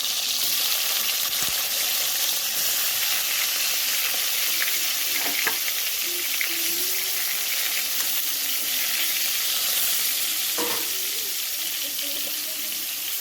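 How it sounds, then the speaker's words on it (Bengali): Steady loud sizzling of pointed gourd slices, salted and coated in turmeric, frying in hot oil, continuous throughout with occasional stirring scrapes. "দিয়ে হালকা করে ভাজবো"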